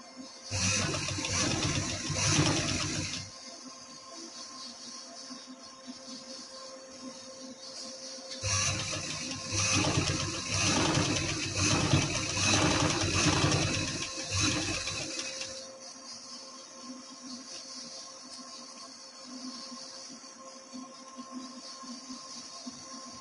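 A sewing machine stitches fabric in two loud, sustained runs of rapid whirring and clatter, the first lasting a few seconds and the second about seven, separated and followed by quiet stretches.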